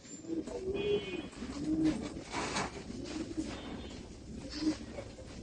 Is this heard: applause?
no